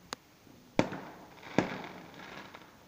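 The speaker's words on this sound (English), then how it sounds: "Everybody's setting off their fireworks today" Fireworks set off outdoors on the eve of Bonfire Night: two sharp, loud bangs about a second apart, with a fainter pop at the start and a softer crackle trailing off afterward.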